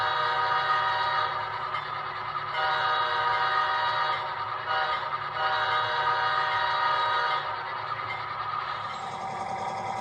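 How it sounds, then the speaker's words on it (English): A BC Rail K5H five-chime horn plays through the sound decoder of an HO scale model locomotive, one long steady multi-note blast sounding close and loud for the full ten seconds and shifting slightly in tone near the end. "here's the BC Rail K5H horn,"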